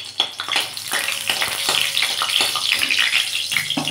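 Dried red chillies frying in hot oil give off a steady, bright crackling sizzle with scattered pops, loud and close throughout, with no talk.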